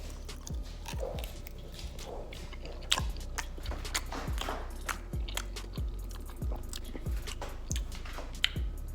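Crunchy bites and chewing of air-fried chicken wings coated in Louisiana hot sauce, a steady run of close, sharp crunches and wet mastication repeating about every half second with no talking.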